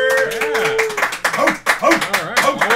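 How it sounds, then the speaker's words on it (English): Small live audience of a couple of people clapping and cheering close by, mixed with voices talking and laughing over the brief applause. "how loud can the live audience applaud"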